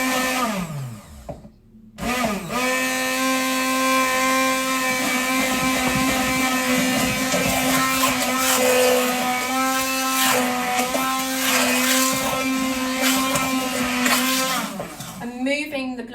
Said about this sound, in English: the blender, it sounds different now, and so that's because this is actually starting to thicken